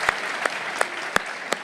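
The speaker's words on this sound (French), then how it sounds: "Et nous allons applaudir la parole de Dieu très très très très fort" Church congregation at an Algerian service claps in slow, regular unison beats, five loud claps spaced evenly over a soft crowd murmur, with no speech over them.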